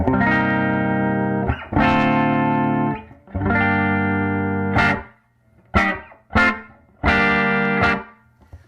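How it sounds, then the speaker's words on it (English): Distorted electric guitar chords through a 1968 Fender Princeton Reverb amplifier with no reverb ring out dry and close, several sustained strums separated by short gaps and quick choppy hits. "Let's listen to the amplifier without any reverb, dry."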